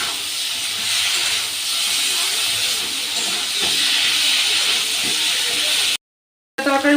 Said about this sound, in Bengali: আদা লঙ্কা বাটা আর জিরে ধনে বাটা, এবার সব কিছু আমি একসাথে কষিয়ে নেব।